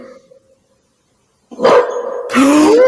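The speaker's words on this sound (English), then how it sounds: "That was a dog." A dog barks loudly and close after a moment of near silence, giving a harsh bark that turns into a drawn-out, rising whining yelp.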